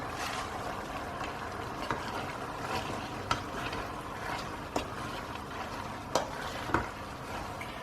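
Chopped spinach stirred into a pot of Indian dhal curry, a steady low bubbling simmer under soft scraping, with a few sharp utensil clicks against the pot, fairly quiet and without talk.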